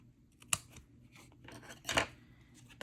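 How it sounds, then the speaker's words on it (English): Scissors snipping off a paper craft tag, two crisp separate cuts heard close and fairly quiet, with soft rustling of paper in between. "So this one I need to cut off."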